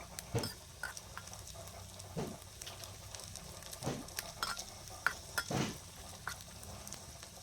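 Onion frying with ginger-garlic paste and spices for egg biryani, with a faint, soft sizzle and intermittent stirring scrapes and utensil taps against the pan.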